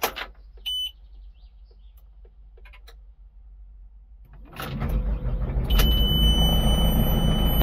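An Antonio Carraro Mach 4 tractor starts up with the clutch held down. A few clicks and beeps sound in a quiet cab, then the engine cranks and catches, settling into a steady, louder diesel rumble.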